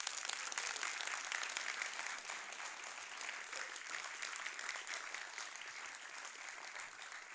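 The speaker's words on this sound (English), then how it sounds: "can we just give one more round of applause to our sixth form dancers for that amazing dance?" Sustained applause from a school audience in a hall for sixth form dancers after their performance, a dense, steady clatter of many hands that fills the whole stretch at even loudness.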